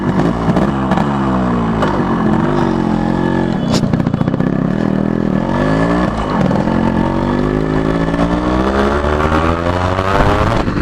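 A restored 1989 Yamaha RX100 motorcycle is ridden, its engine rising and falling through repeated revs and throttle sweeps. It is loud and close, with no talk over it.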